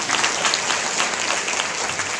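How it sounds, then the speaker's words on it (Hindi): An audience claps continuously at a Hindi spiritual discourse, producing a dense, steady burst of applause that fills the whole stretch at an even, fairly loud level with no pauses. "ताली तो बजाओ।"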